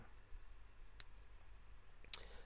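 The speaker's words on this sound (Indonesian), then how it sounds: "Nah ini kita tekan del pada keyboard, nah sehingga kehapus semua." A computer keyboard's delete key gives a faint, sharp click, followed by a second soft click about a second later in a quiet room.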